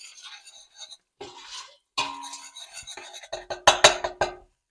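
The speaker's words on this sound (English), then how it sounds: "So let's add the rest of the popcorn, add sugar, and then I'm gonna stir everything." Popcorn kernels and sugar poured into a pot for homemade kettle corn, then stirred, giving a rattle of pouring followed by quick scraping and clinking strokes that grow louder toward the end.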